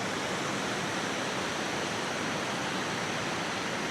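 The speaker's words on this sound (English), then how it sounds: "creek down in there that flows to the Lehigh River over that way" A creek in a small wetlands area of a canal park in Weissport, flowing toward the Lehigh River, gives a steady, even rush of running water with no break and no voices.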